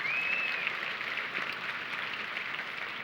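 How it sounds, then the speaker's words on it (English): Faint, steady clapping from an audience thanking a chairperson at a talk, a soft even wash of applause throughout with a brief high whistle near the start. "round of applause?"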